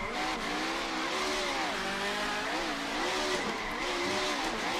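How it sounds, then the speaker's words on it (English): A race car in the iRacing sim spins its wheels, the engine revving with wavering pitch under a steady, loud tire squeal that holds for several seconds without any talk. "I do feel a lot of wheel spin."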